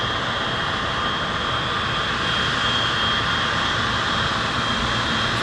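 A DHL cargo aircraft taxis past at East Midlands Airport, its jet engines making a loud, steady, broadband roar with a high whine that holds level throughout, close by and with no voices.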